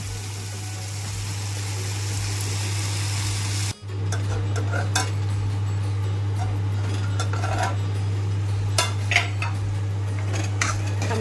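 A spoon stirs tomatoes softening in a pot over the fire, scraping and clinking against the metal while a steady sizzle and low hum run underneath, with a brief bump partway through.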